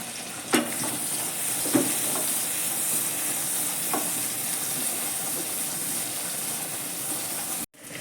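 Onion sizzling steadily in a hot kadai, a continuous frying hiss with a few soft stirring clicks and scrapes, fairly close and uninterrupted by speech, ending in a brief pause.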